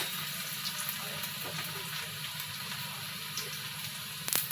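Garlic and dried red chilies fry in oil and are stirred gently, a soft steady sizzle at moderate level with faint background tones and a short clatter at the very end.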